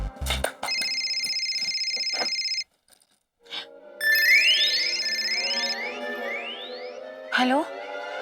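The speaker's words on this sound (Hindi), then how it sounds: "अरे ये फोन को अभी बजना था।" An electronic telephone ringtone plays in a home, a sustained warbling tone followed by repeated rising chirps, fairly loud and close, with brief speech-like sounds mixed in.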